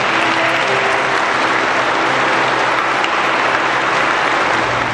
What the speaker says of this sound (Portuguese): Vamos bater palmas para o casal?